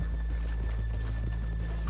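Horses in the video game Red Dead Redemption 2 clip-clopping with steady hoof beats and a neigh, heard briefly and fairly quietly over a low background hum.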